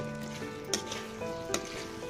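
Mango pachadi with jaggery stirred in a pan, a soft continuous sizzle with two distinct spoon clinks against the pan, close and fairly quiet.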